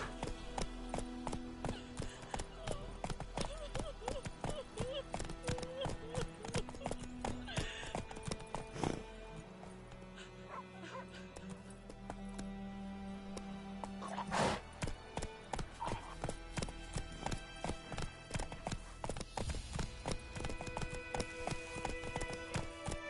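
Roach the horse from The Witcher 3 galloping, with rapid rhythmic hoofbeats running continuously and a whinny partway through, under game music and ambience.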